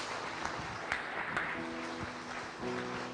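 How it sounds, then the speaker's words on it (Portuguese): A church congregation applauds during worship, a steady wash of hand clapping with a few sharper claps standing out, over sustained tones that continue underneath. "Vamos aplaudir o Pai Celeste, em nome de Jesus."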